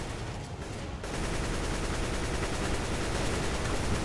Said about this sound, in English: I have one bullet in my AK. I'm just shooting it.